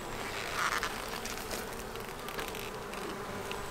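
Honey bees at a hobby beekeepers' hive buzz in a dense, steady drone, close and continuous throughout with no voices.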